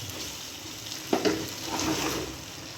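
Dragon chicken sizzles in a pan as it is stirred with a cornflour slurry, a close, steady frying hiss with a brief scraping thump of the spoon partway through.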